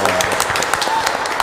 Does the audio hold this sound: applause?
yes